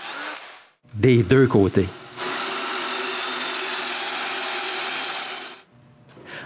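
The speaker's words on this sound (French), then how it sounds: "je dois percer un trou dans les deux cadres" A power drill bores holes through two wooden frames of pivoting mobile carts in a woodworking shop, giving a steady, loud whirring drone for about three seconds after a man's short phrase in French.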